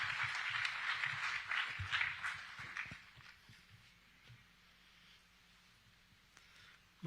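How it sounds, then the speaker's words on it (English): Faint applause rises from an audience welcoming a guest speaker at a live event. It fades out after a few seconds into near quiet. "please a grand welcome, a huge round of applause for Sridharan Pillai ji."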